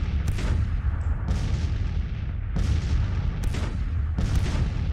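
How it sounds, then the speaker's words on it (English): Artillery fire in the Grand Tactician: Civil War strategy game, a Confederate 1862 campaign battle for Washington: repeated loud cannon booms, about five blasts spaced roughly a second apart over a low rumbling battlefield din. "My artillery doing a lot of work on this one."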